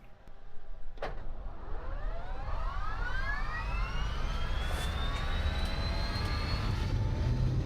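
A turbine aircraft engine spools up in the X-Plane 11 flight simulator, a click followed by a steadily rising whine that climbs in pitch over several seconds above a constant low rumble, heard alone without talk.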